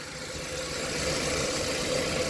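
An old Ford Ka four-cylinder petrol engine idling cold, a steady low rumbling hum heard up close with no voices.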